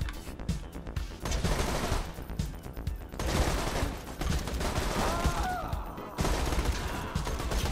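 Rapid bursts of gunfire ring out in Borderlands 2, dense overlapping shots that come in waves with brief pauses. A loud, close fusillade continues throughout.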